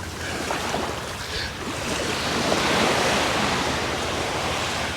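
Ocean waves washing onto White Sands Beach near Pattaya, Thailand: a continuous broad surf roar with wind, swelling slightly midway, no one speaking.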